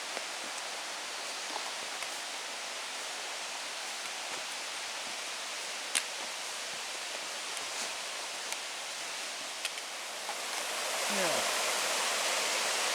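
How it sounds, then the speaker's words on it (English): A small forest stream flows beside a downhill trail near waterfalls in Blowing Rock, a soft continuous rushing wash with a few faint clicks and rustles, swelling slightly near the end. "it's a pretty little stream."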